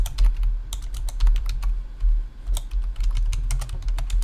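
Quick clicks from a computer keyboard as someone types, an irregular patter of close, crisp keystrokes over a low hum.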